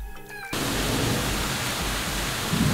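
A thunderstorm with heavy rain on a Florida beach vacation, heard as a dense, loud, steady rush that starts abruptly after a brief quiet moment and continues alone to the end.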